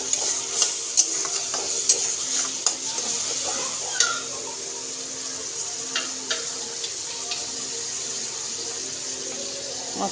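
Onion, tomato and masala fry in a pan for a prawn and potato curry, giving a steady sizzle broken by scraping clicks of stirring, close and without talk.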